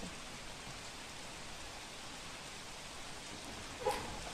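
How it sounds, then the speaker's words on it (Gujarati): Rain falls on villages near Surat in a steady, even hiss with a faint wash of wind, distant and soft, with one brief louder splash near the end. "ભારે પવન સાથે વરસાદ વરસી રહ્યો છે ઓલપાડ ઉમરગામ વિસ્તારમાં વરસાદ"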